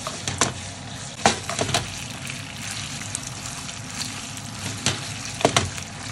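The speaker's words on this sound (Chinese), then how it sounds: "我先下豆瓣，把豆瓣那香味炒到油里面。 再下肉，直接就把那个香味炒到肉里面去了" Doubanjiang bean paste and beef stir-fried in hot oil sizzle steadily, with sharp scraping clatters of the spatula against the wok at irregular intervals, close and alone.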